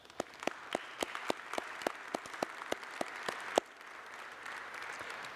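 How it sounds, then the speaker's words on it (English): Congregation at a memorial service clapping, a modest scatter of distinct, crisp claps at a steady pace for about three and a half seconds, then stopping abruptly and leaving a quiet room hush. "you deserve our applause"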